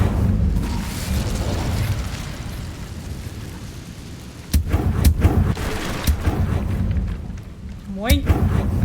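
An Incendio fire spell cast in Hogwarts Legacy bursts out as sharp whooshing blasts and booming hits, several in quick succession over a rumbling game backdrop.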